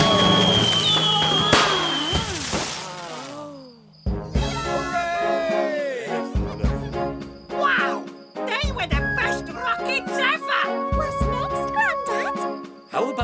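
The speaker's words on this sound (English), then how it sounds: "Some Roman candles." Roman candle fireworks whistle, crackle and pop repeatedly with sparkling, fizzing bursts, close and loud, while children's voices are heard underneath, in a cartoon.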